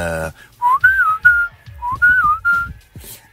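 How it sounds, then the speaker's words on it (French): A person whistles a rallying call, a short series of clear, sliding melodic phrases repeated twice, close and distinct, with faint background noise between the notes. "on avait un sifflet de ralliement"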